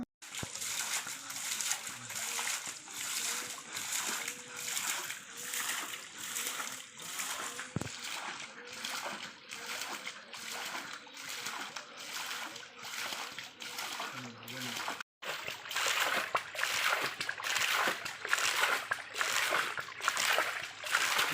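Water gushing up from a 198-foot borewell makes a steady, pulsing splash and rush throughout, with people talking over it nearby.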